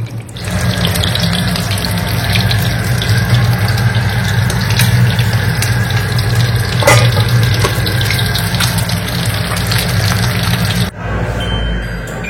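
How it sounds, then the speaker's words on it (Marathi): Water poured into a pan of shallow-fried fish to make curry, a loud, steady rushing stream with a low hum beneath and some clinks, running continuously before stopping shortly before the end. "मी आता पाणी टाकते जेवढा रस्सा पाहिजे तेवढा"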